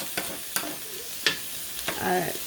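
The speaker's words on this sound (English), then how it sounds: "I'm just going to saute this" Onions sautéing in a pan, with a soft sizzle and a few sharp scrapes and taps of a utensil stirring them, close by and brief.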